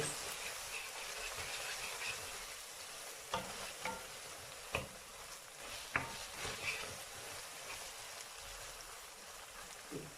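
A spoon stirs sausage with black pepper in a tomato paste sauce in a pan, giving a soft, steady sizzle with occasional scraping clicks against the pan, quiet and with no voices.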